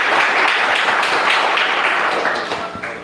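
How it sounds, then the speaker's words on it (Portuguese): A church congregation claps together in sustained, dense applause, fairly loud and even, tapering slightly at the end. "Uma salva de palmas ao Senhor."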